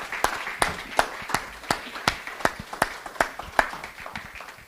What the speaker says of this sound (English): Let's give a round of applause to our candidates.